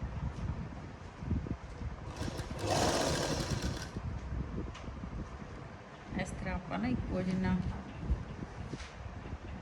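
A sewing machine stitches a sleeve seam onto a shoulder in short, whirring runs with pauses, while someone talks over and between the bursts.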